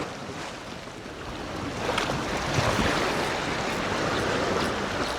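Strong wind blows at the seashore during a bass fishing outing, making a continuous broadband rush mixed with surf. It swells louder after the first couple of seconds and buffets the microphone, with no talking.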